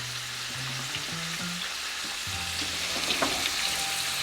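Shrimp sizzle and fry in a hot pan, a steady close crackling hiss running unbroken for a few seconds with faint kitchen tones and no talk.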